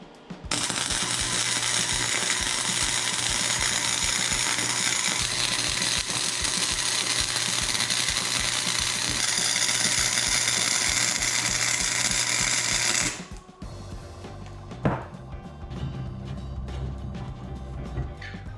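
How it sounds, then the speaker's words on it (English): Welding on a homemade tool, a loud, continuous crackling buzz of about thirteen seconds that cuts off abruptly, followed by quieter clanks and handling noise. "All right, let's weld it up."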